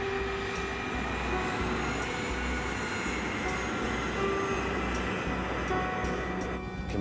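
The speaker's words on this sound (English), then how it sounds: "The KLM plane is groping its way through fog." KLM airliner taxiing slowly on a fog-covered runway, a steady loud engine roar and rumble filling the clip without a break.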